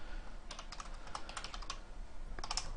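Typing on a computer keyboard, a run of quick clustered keystrokes in the middle followed by a short final burst, fairly faint in a quiet room with no voices.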